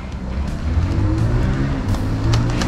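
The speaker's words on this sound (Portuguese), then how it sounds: "Barulho de carro." A car passes outside at night near a house, its engine note rising as it accelerates, a steady rumble that swells and stays fairly close throughout, with no talking.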